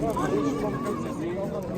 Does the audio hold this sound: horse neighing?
yes